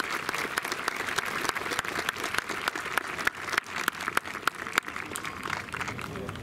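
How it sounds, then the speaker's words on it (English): An audience at a high school graduation ceremony claps steadily, a dense patter of many hands, moderately distant and sustained without pause. "join me in a well-deserved round of applause for the two of you."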